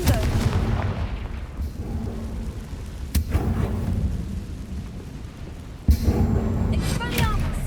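Confringo spell explosions in Hogwarts Legacy boom in heavy, rumbling blasts, with sharp bursts near three and six seconds over continuous game noise.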